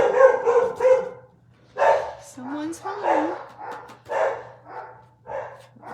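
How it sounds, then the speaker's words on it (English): Household guard dogs bark in several quick bursts, loud and close, followed by more scattered barks and yips while a person speaks over them. "Great guard dogs."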